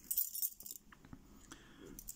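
A ring of Abyss lock keys, part of a lockpicker's key collection, jingles and clinks in the hand in a few short metallic bursts, close and quiet.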